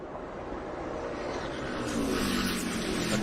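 A NASCAR Xfinity Series race car roars around a road course through the turns, its engine note loud and sustained, swelling as it brakes and then accelerates out of the corner.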